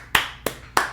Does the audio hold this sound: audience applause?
yes